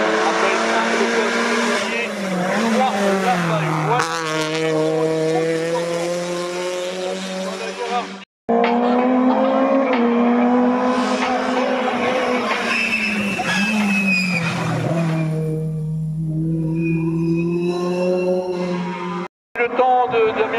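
A race car at the Orbec hill climb accelerates hard, its engine note climbing and dropping through gear changes. The loud revving cuts off abruptly partway through and then resumes.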